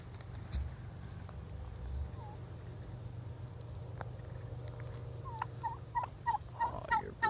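Golden Palm turkeys on an organic homestead gobble out in a mob-grazed pasture, several bursts of gobbling getting louder and more frequent near the end of the stretch, with no talking over them.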